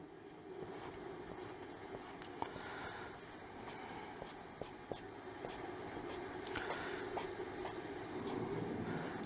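A pen draws strokes on paper in quiet, faint scratching sweeps repeated at an irregular pace, close up over a low background hiss.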